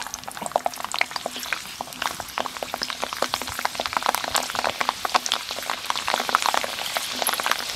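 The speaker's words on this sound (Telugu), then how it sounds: "ఎల్లుల్లిపాయలు కాడ లైట్గా వేయించుకోవాలి." Garlic lightly frying in oil for Ranganayakamma-style chicken pickle, a dense crackle of rapid spitting pops and bubbling, close and fairly loud, continuing throughout without any talking.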